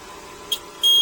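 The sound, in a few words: electronic warning alarm beeping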